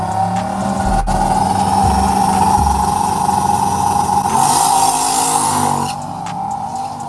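A turbocharged Mustang race car with a roll cage at a drag strip, its engine rumbling loud and close, revving and surging in a sustained roar before easing back toward the end.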